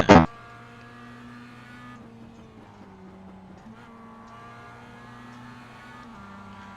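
Race car engines in the iRacing Mazda Cup at Lime Rock whine through the gears, opening with a sharp loud burst and then a steady buzzing drone as pitch drops and climbs between shifts.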